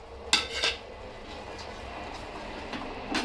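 A spoon mixes sugar into sago kheer in a metal pot, giving a few sharp clinks and scrapes against the pot with quiet pauses between.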